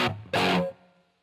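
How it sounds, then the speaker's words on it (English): A distorted electric guitar through Line 6 Helix Native with plate reverb hits two short chord stabs that ring briefly and fade into a soft reverb tail, alone and close. "Now there's a bit of a plate reverb on here."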